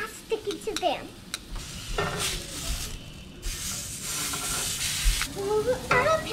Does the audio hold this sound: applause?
no